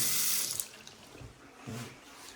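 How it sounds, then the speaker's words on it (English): A tap runs briefly into a sink with a hissing rush, then shuts off, leaving faint quiet room sounds. "Water's on."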